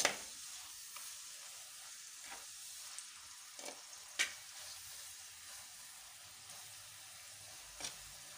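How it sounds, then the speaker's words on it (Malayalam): Food is sautéed in a pan, with a faint, steady frying sizzle. A few soft scraping taps of stirring come through, and no one talks. "നന്നായി വഴറ്റിയെടുക്കണം."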